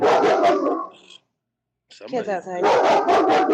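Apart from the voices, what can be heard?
German shepherd dog barking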